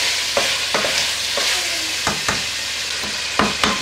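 Garlic frying in oil in a pan for Spanish potato and rib stew, a loud, close, steady sizzle punctuated by several spoon-stirring scrapes.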